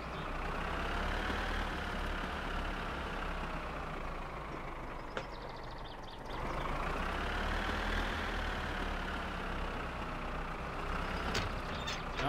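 Truck driving in My Summer Car, a steady low engine drone with a rising and falling pitch as it changes speed, and a few faint clicks, continuous and close, with no talking.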